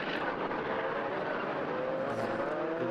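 Race cars at the Anglesey circuit during a BRSCC race weekend, a continuous engine roar from cars running under braking, fairly close and steady.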